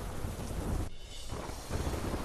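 Steady heavy monsoon rain roars around Majivana village in Gujarat, with a low rumble of thunder running underneath, the downpour briefly thinning before surging back loud.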